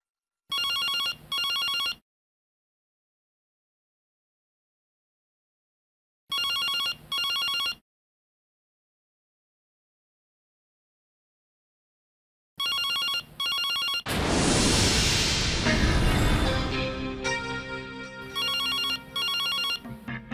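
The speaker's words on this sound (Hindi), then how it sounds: "रात को कौन फोन कर रहा है?" A telephone rings at night in short double-burst rings separated by long silences, fairly clear and close, with a brief burst of music partway through.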